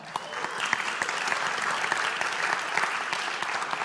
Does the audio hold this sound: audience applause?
yes